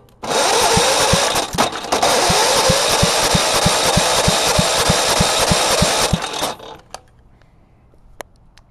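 A go-kart lawn mower engine cranks over during a compression test, a loud, even whirring starter run with regular rhythmic compression pulses for about six seconds, then it stops abruptly, leaving a few faint clicks in the quiet.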